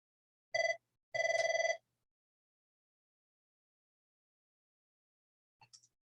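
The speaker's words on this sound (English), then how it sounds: "I apologize about the phone there." A telephone bell rings indoors in two bursts, one short and one longer, with harmonic tones, followed by silence and a faint brief sound near the end.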